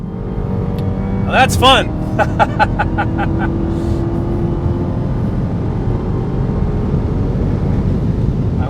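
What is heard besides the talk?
Dodge Charger Hellcat driving at high speed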